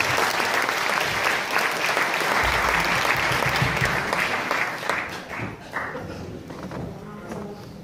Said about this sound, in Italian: L'applauso per Giulia Vaccargius.